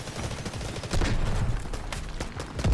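Gunfire from the video game Delta Force: Hawk Ops, a rapid, dense burst of shots under noisy game ambience, steady for several seconds with a louder stretch midway, while players talk over it.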